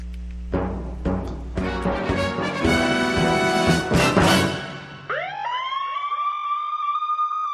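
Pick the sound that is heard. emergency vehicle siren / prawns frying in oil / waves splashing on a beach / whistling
emergency vehicle siren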